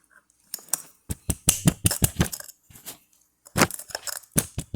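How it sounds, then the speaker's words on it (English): A palm strikes a pick to punch holes in a homemade alcohol stove, giving clusters of sharp, close metallic taps in quick bursts separated by short pauses. "I'm just using my palm and hitting this pick in."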